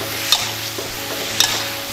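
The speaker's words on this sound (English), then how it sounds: "Keep scooping around 15 to 20 seconds." Spatula scraping and stirring cashew chicken with onion in a hot frying pan, a steady close sizzle with two sharp scrapes of the utensil against the pan, no talking.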